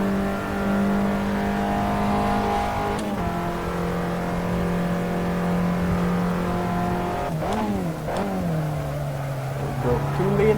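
An Abarth 500 races in Assetto Corsa, its engine droning steadily with shifting pitch, sharp upshift and downshift changes, and revving swells near the end, loud and close throughout.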